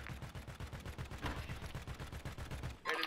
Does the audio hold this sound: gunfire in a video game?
yes